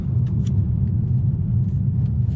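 A BMW M4 in a tunnel, its exhaust a deep, steady low rumble that fills the enclosed space, close and fairly loud, with no talking over it.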